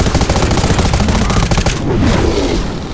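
Rapid, dense video game gunfire rattles in continuous loud automatic bursts, close and harsh, with no clear pause.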